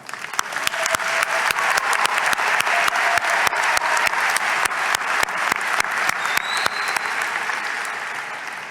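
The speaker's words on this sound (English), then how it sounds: "let us take a moment to acknowledge that with a round of applause" Applause for graduates at a Durham College spring convocation ceremony: a sparse, sharp set of close individual claps over a broad, sustained crowd clapping that runs steadily and fades slightly toward the end.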